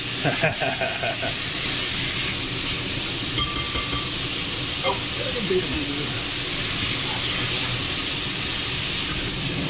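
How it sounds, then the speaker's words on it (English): Bacon and onions sizzle steadily in a hot pan, a continuous crackling hiss close up, with a few faint clinks and stirring sounds. "We're going to come in for an extreme close-up of the sizzle."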